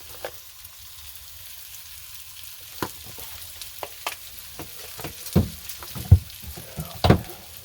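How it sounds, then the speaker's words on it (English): Minced garlic sizzling in a frying pan on a home stove, a quiet bed of frying hiss broken by scattered pops and crackles that grow busier toward the end. "Throw a little minced garlic in there as well."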